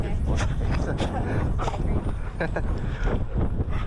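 A horse walks with irregular clip-clopping hoofbeats close by, heard over wind noise and under people talking.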